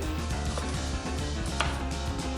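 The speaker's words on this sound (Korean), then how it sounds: "토마토와 루꼴라를 자르고" Quick, fairly regular knife chops through tomatoes and arugula on a cutting board, with soft background music underneath and no talking.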